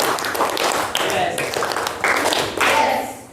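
A classroom of students clapping hands together in grouped bursts of a counted pattern, sharp slightly ragged claps in short clusters separated by brief gaps, with a teacher's voice talking between them.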